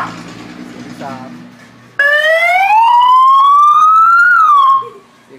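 A small 30-watt electronic siren box on a 12-volt DC speaker plays its third tone: after brief talk, a loud wailing tone sweeps upward, wavers, then dips and cuts off abruptly.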